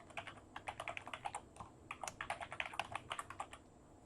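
Rapid, uneven keystrokes on a computer keyboard as an email address is typed, close and fairly quiet, in short bursts with brief pauses and no talking.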